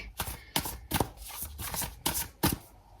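Tarot cards being shuffled, a series of about six quick papery riffles and slaps at close range with short pauses between them.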